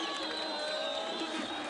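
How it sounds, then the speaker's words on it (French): A protest crowd booing and jeering as portraits of the president are burned, a dense continuous roar of many voices with a news narrator talking over it. "Les hurlements se transforment en huées lorsque des portraits du président sont brûlés"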